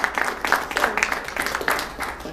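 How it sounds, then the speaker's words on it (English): A small audience at a military promotion ceremony to captain gives a round of applause, uneven individual claps that rise and fall in loose bursts, with some faint voices mixed in. "So round of applause for her."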